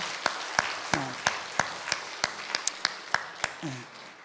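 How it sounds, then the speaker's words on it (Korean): During a Sunday church service after a baptism, the congregation claps in a sparse, evenly spaced rhythm of sharp individual claps, roughly three per second, with a couple of brief voices rising over it. "우리 박수 한번 보내겠습니다."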